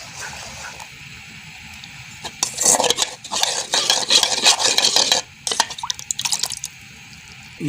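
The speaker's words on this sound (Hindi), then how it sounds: "थोड़ा थोड़ा डाल देंगे और चमचा हिलाएंगे।" A spoon stirs a cornflour and water mixture into chicken soup in a pot, giving bursts of liquid swirling and clinking against the pot that start quietly, then grow busy and fairly close, with no talk.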